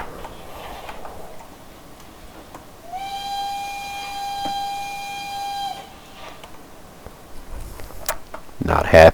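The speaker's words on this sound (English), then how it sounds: "Not half bad sounding whistle." Steam whistle of the SECR 313 0-4-0T tank locomotive in Train Simulator Classic, one sustained clear tonal blast of about three seconds over quiet engine ambience, with a sharp knock near the end.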